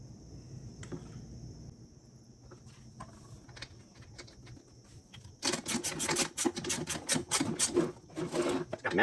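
Someone pull-starts an Echo backpack blower engine to test its compression. After a quiet stretch, a sudden burst of rapid, rattling pulses follows, close and fairly loud, with faint human sounds nearby.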